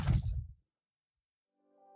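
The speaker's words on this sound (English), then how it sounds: "For our data sound exploration, an eruption event will sound like this." A data sonification of a volcanic eruption event at Axial Seamount: a brief loud rumbling burst that cuts off abruptly into silence, followed by a faint rising tone at the end.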